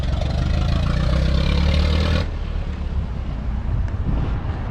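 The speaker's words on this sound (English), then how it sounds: "I like the sound of the engines." Vintage car engines idle at a Gettysburg cruise-in, a steady low rumble with wind buffeting the microphone; the louder engine sound drops off abruptly about halfway through, leaving a quieter idle under the wind.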